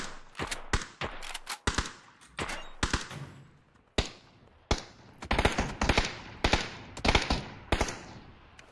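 Bursts of gunfire in PUBG ring out in sharp, irregular volleys, loud rapid cracks clustered in groups with short gaps between, echoing as if from a hillside.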